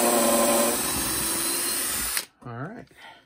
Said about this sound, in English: We'll drill a pilot hole, we'll countersink it.